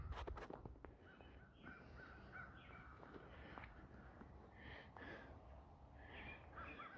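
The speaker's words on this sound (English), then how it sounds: "The birds are happy after all the rain, probably getting a lot of worms." Crows caw outdoors in a garden after rain, several rough calls scattered at a moderate distance over a quiet background with faint rustling nearby.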